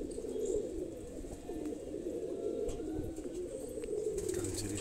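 Flock of Madrasi pigeons cooing together, a dense, continuous murmur of overlapping low coos at moderate distance with occasional faint chirps, no talking.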